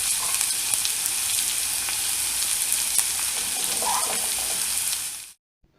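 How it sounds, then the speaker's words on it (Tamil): Onions and carrots sizzle and crackle steadily in a hot pan, close and continuous, then the sound cuts off abruptly. "வெங்காயத்தை ஒரு 2 நிமிஷம் அப்படியே வதக்கிக்கிட்டு"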